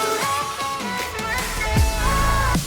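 An FL Studio electronic build-up with tom fills, a reverse crash and a reverse kick. The mix is dense and steady, with rolling drum hits and two swelling, sucking reverse sweeps near the end, and no voice.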